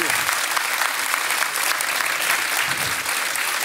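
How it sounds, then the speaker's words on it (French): A hall audience in Rennes applauds to welcome chef Pierre Gagnaire, producing a dense, continuous roar of many hands clapping at an even level throughout. "On va vous demander de vous l'applaudir"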